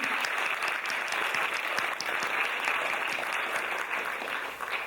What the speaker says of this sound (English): give a big round of applause to Ben and his team for the sound and lighting management this evening